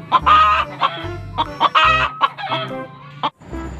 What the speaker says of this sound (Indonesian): Ayam betina kalau habis bertelur pasti bersuara betok-betok dan sangat berisik ya